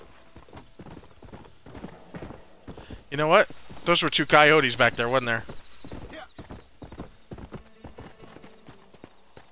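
Horse hooves clip-clop in Red Dead Redemption 2, a steady rhythm of close, sharp hoof strikes, joined midway by a loud whinny while someone talks over it.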